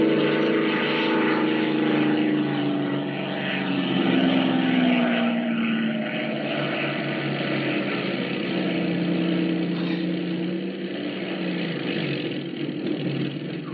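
A propeller airplane coming in to land in an old-time radio drama, its engine droning loud and steady with a slowly falling pitch before easing off slightly near the end, with no voices over it.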